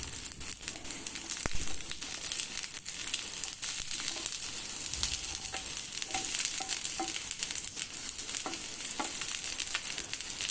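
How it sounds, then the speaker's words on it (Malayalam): Capsicum vada sizzle and crackle steadily as they fry in coconut oil in a pan, with a close, continuous bubbling hiss and occasional scraping as the pieces are turned. "വെളിച്ചെണ്ണ ഒഴിച്ചിട്ട് തിരിച്ച് മറിച്ചിട്ട് ഒന്ന് വേകുന്നത് വരെ ഒന്ന് മൂപ്പിച്ചെടുക്കാം"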